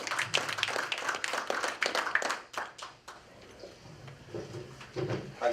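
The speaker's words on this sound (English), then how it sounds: "Let's hear a round of applause for you." Applause from an audience at a local political candidate forum in Thurston County, a quick burst of moderately loud clapping that thins out after about three seconds, giving way to faint room murmur.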